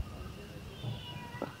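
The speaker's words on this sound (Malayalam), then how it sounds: "അതാണ്ടോ പൂച്ച." A domestic cat gives a short, faint meow near the end of a quiet moment, heard alone over low background noise.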